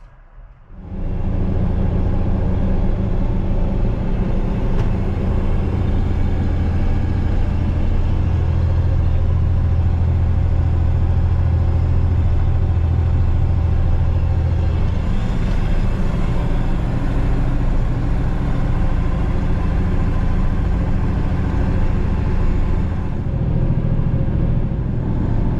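A Versatile 936 tractor with 7,597 hours pulling a Krause Dominator, its diesel engine starting up then droning loud and steady with a deep constant rumble, heard from inside the cab.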